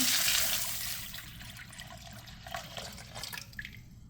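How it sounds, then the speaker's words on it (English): Water poured from a tap into a pot of rice while preparing Haitian rice and beans, a splashing pour that starts strong and fades, followed by a few small drips and trickles. "I'm adding some water."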